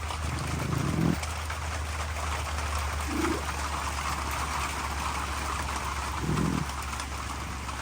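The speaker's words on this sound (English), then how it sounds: "It's just rain." Steady rain pours down outside over an animal enclosure where foxes are being fed, a continuous broadband hiss throughout with a few brief low murmurs beneath it.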